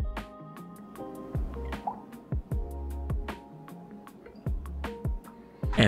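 Soy sauce and mirin poured into a bowl for an oyakodon sauce, a close series of drips, plops and small liquid splashes arriving in uneven bursts.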